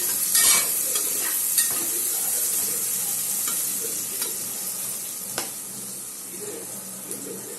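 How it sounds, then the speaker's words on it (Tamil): Onions with salt are sautéed in a pan for chicken biryani, giving a steady close sizzle with scraping stirs throughout and no talking. "அப்போ அந்த வெங்காயம் டக்குன்னு வதங்கிடும்."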